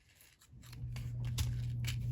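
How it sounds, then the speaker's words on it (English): Scissors snip through the excess paper trimmed from a handmade Christmas shaker tag, a short crisp cut rising over a low steady hum, close and fairly quiet with no talk. "And cut off the extra."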